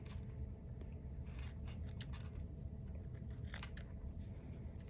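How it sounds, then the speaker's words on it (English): Very sharp scissors trimming the pointed edges off a zipper for a zipper chain bracelet, a quick series of crisp close snips over a quiet room background. "So I'm just trimming those off with some very sharp scissors."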